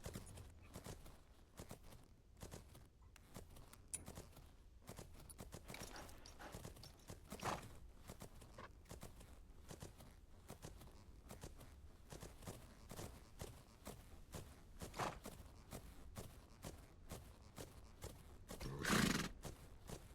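Horse hooves clip-clop at a steady walking rhythm in the Fernhoof Grove video game, with an occasional whinny and a louder snort or neigh near the end, all fairly quiet and without talk.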